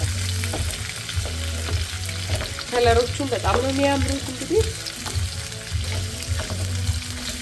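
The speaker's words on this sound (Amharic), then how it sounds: "አሁን ሁሉንም አንድ ላይ መጥበስ ብቻ ነው በዘይት ውስጥ" Mixed vegetables, including purple cabbage, frying together in oil in a pan give off a steady, close sizzle throughout, with a voice talking over the middle stretch.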